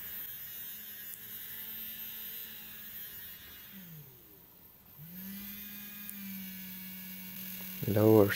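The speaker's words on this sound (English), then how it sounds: "If I use the other switch, the motor is still on." A small brushed electric motor driven by a 30A ESC on a 2S LiPo whines with a thin steady hum, briefly dipping and sweeping in pitch midway before resuming, with a short burst of louder noise at the end.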